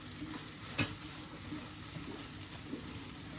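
Onions and washed rice sautéing in a pot, a soft continuous sizzle with a few small clinks and stirring scrapes, faint and close.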